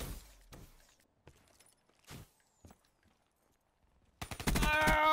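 A short sequence from a Black Ops 3 Gun Game match: sparse clicks and thuds at first, then a sudden loud burst of the player's own gunfire near the end.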